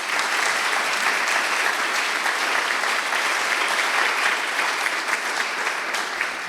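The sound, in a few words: audience applause for a speaker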